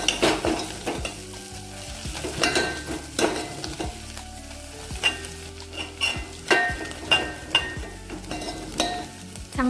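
Ginger, garlic and turmeric masala frying in oil for a Satara-style urad dal dish, a close sizzle under frequent loud scrapes and clanks of a spoon stirring against the pan.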